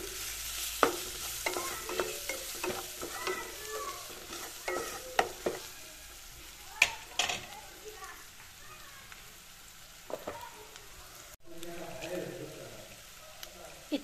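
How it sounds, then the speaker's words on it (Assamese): Spices (turmeric, chili, cumin and coriander powder) fry in a pan with a soft crackle while a spoon stirs and scrapes in repeated sharp knocks, and a voice talks over it. "এইখিনি এই একেডালতে অলপ সময় ভাজিম মই"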